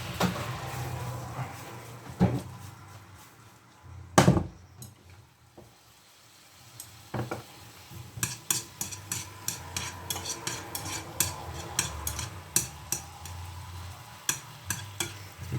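Soy sauce and maple syrup sizzling in a pan as their moisture cooks off, a soft continuous frying hiss with occasional clanks and a steady run of sharp utensil scrapes and taps on the pan.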